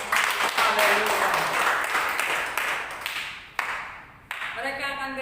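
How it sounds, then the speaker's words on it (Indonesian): Church congregation clapping hands together, a dense loud wash of applause that rises and falls, with brief breaks before music or singing comes in near the end. "Tepuk tangan dulu deh"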